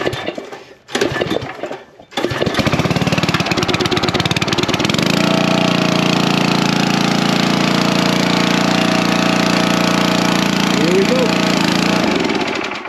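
A gas-engine log splitter, brought to life with a recoil pull-start, turns over in a few rough bursts, then settles into a loud, steady running drone close by.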